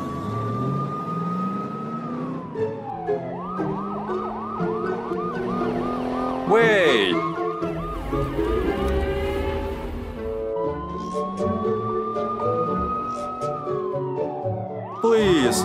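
An ambulance siren wails and yelps in rising and falling sweeps, loud and close amid traffic noise, with a person calling out briefly.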